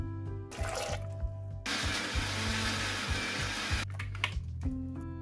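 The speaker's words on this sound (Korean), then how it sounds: "양파 1개, 마늘 10쪽, 생강 2쪽을 곱게 갈아주세요" A blender grinds one onion, ten garlic cloves and two pieces of ginger for LA galbi marinade, a loud steady whir lasting about two seconds between clicks and handling noises.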